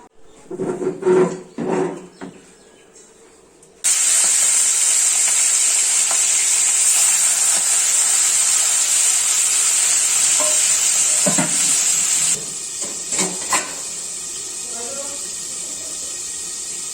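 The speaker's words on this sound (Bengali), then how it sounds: "এই যে শিঙি মাছ ভাজা বসিয়ে দিয়েছি" Singi fish frying in a pan with mankochu nearby, a loud steady sizzle starting after a few seconds of stirring clatter and talk, continuing strongly before easing slightly near the end with a few utensil knocks.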